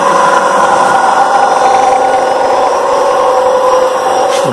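A radial compressor runs steadily, its intake sucking in air with a continuous loud whooshing roar and a hum that stays even throughout, with no talking.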